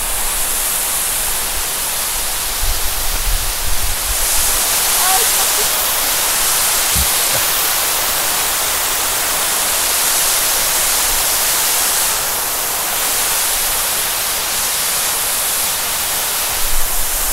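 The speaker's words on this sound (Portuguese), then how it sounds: "a 2 metros de distância aqui da água que está caindo aqui pelo sangradouro" Water pours over the spillway of the Belo Jardim dam, heard from about two metres away as a steady, loud broadband roar that fills the whole clip with little variation.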